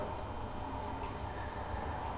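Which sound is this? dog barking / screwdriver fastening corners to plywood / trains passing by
trains passing by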